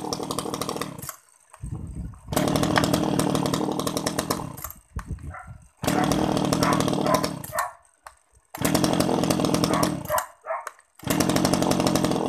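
Zenoah Komatsu G300AVT chainsaw engine revving loudly in repeated bursts, each roaring for a couple of seconds before dropping back to a brief idle or near silence, with no talking.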